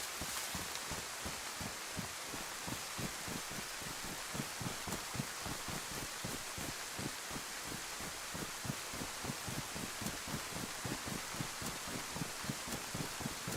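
Rain in the video game DayZ falls steadily as a soft, even hiss, with faint rhythmic thumps running underneath throughout. The sound is distant and low, with no talk.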